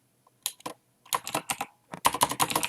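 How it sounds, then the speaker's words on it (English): Fingers typing a short word on a computer keyboard into a software search bar, crisp close-up clicks in three quick bursts separated by brief pauses, no voices. "by going to the search bar and typing in a name."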